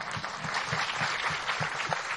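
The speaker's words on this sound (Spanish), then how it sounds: "Vámonos un aplauso desde aquí" A crowd applauds at an outdoor community holiday festival event in Venezuela, steady dense clapping heard from a distance with a rhythmic beat running underneath.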